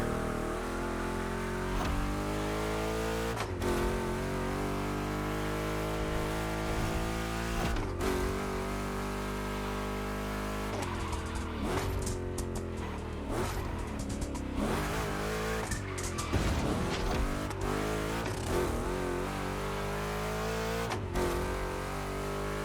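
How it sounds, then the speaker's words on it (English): Two Chevy big-block cars racing in The Crew Motorfest, a continuous loud engine drone that rises and falls through gear changes, with tire squeals and skids through the turns and no talk. "Two Chevys, two big blocks, but only one winner."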